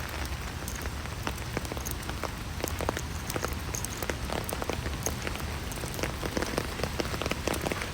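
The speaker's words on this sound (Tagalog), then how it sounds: "Umulan naman. No exercise for today. Just raining." Steady rain falls on a morning in Singapore, a dense continuous patter of drops striking surfaces nearby, with scattered sharper splashes standing out over the even hiss throughout.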